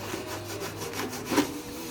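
A rag scrubs a metal transmission part clean of shavings, giving a continuous close rubbing and scraping with a slight rhythmic back-and-forth.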